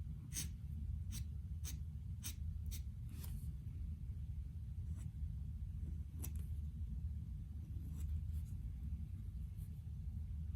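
Pen inking over pencil lines of a dragon drawing on paper, a series of short scratchy strokes in quick bursts, close and fairly quiet over a steady low room rumble.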